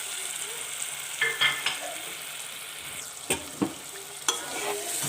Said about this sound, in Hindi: अब हम लोगों ने इनको अच्छे से मिक्स कर देना है